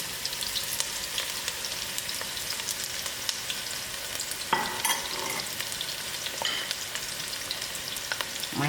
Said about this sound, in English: I'll allow the onions to get fried out.